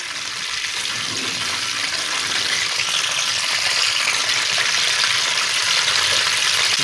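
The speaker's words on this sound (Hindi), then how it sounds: "सबसे पहले हम प्याज डाल देते हैं" Onions fry in a pan on a lit stove, giving a loud, continuous close sizzle that holds steady throughout.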